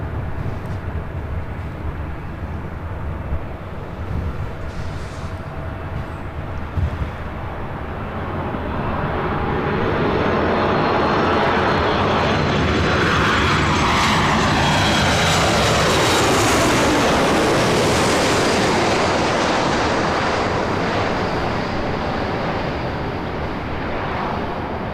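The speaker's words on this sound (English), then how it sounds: "Right up next, the Air Canada 737 MAX 8" An Air Canada Boeing 737 MAX 8 at LAX, its jet engine roar swelling from a distant rumble to a loud, sustained rush as it passes, then holding strong.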